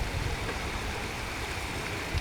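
Fast, churning floodwater rushes under a bridge during a flood in Thailand, carrying logs and debris; a steady, loud, broadband roar holds through the whole stretch without pause.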